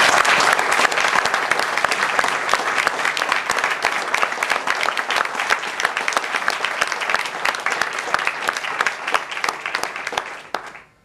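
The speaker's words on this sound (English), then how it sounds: "we'll have a big round of applause for John" A prize-giving audience at a Scottish motorsport championship event applauds steadily for several seconds, a dense, close wash of clapping that holds even and then tapers off at the end.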